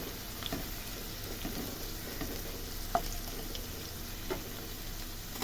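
Dried red chillies fry in hot oil for a Bengali cauliflower and rui fish dish, giving a steady close sizzle with a few small pops and light clinks, with no one talking.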